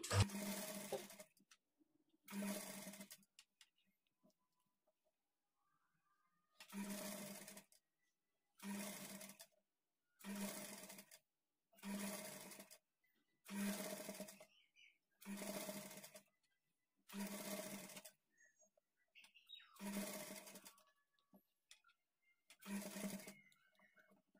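A sewing machine stitches blouse cloth in about a dozen short, even bursts of rapid whirring, separated by silent pauses while the fabric is folded and repositioned, close and clear.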